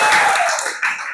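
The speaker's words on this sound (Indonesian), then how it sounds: "kita beri tepuk tangan sekali lagi." A classroom group clapping hands together during a coding and artificial intelligence training session, a short, dense burst of mixed claps that swells, dips briefly and then picks up again.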